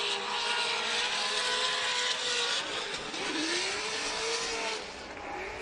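Drift car at full throttle on a Formula Drift Texas qualifying run, a loud continuous engine roar with shifting pitch as it swings through the outer zone at massive angle, tires shedding debris, steady and close throughout.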